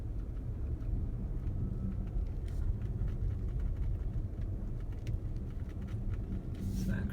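Tesla Model S P85D ploughing through roughly two feet of deep snow drifts, a steady low rumble and road noise filling the whole stretch with faint scraping crunches on top, loud and continuous.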